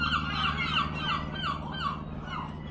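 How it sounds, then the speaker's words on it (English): Seagulls squawk and cry in a string of repeated calls over a steady low hum, sounding a little distant and overlapping one another. "Ah, damn seagulls."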